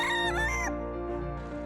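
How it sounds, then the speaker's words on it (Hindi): A rooster crows loudly and close, a strong harmonic cock-a-doodle-doo whose call drops away midway while a steady low tone continues underneath. "जब जी चाहे, जहां चाहे, जितने बजे चाहे मिस्टर मुर्गा बांग दे सकते हैं।"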